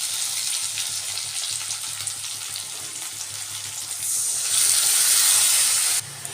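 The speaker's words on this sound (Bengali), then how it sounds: "এখন আমি যে মশলাটা ভিজিয়ে রেখেছি সেই মশলাটা আমি অ্যাড করে দেবো" Soaked spice paste goes into potatoes frying in oil for a tengra fish curry with new potatoes and brinjal. A steady close sizzle runs throughout, then swells louder and hissier for the last two seconds, with no voices.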